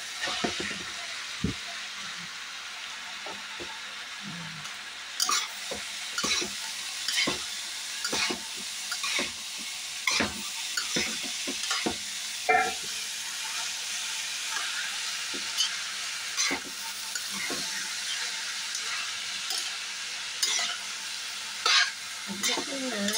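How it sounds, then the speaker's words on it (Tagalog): Grated cauliflower frying in a pan, a steady hiss of sizzling under repeated scraping strokes of a spatula stirring it, with a brief voice at one point. "Lalagyan po natin ang ating grated cauliflower."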